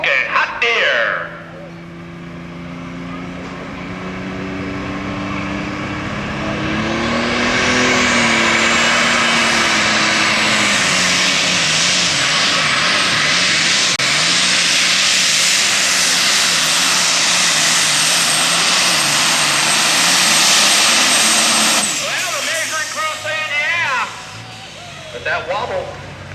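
Super stock diesel pulling tractor, a John Deere called Smokin' Hot Deere, roaring through a pull at an NTPA Grand National event in Fort Recovery, its engine climbing to a loud sustained scream under an announcer's commentary before cutting off.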